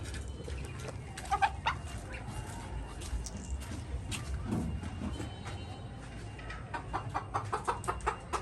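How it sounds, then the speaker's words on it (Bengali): Broody hens sitting on duck eggs cluck in soft, irregular bursts, close by, with farmyard background noise throughout. "এখন আপনাদেরকে আমি দেখাবো আমার যেই মুরগিগুলা বর্তমানে হাঁসের ডিম নিয়ে বসে আছে।"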